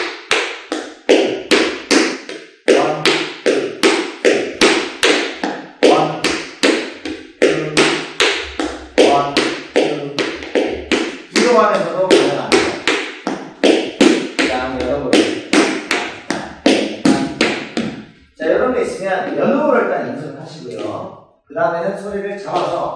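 Tap shoes beat out basic paddle steps on a hard floor, a long run of sharp, rapid, even clicks in steady rhythmic groups, close and loud, with a voice speaking over the last few seconds.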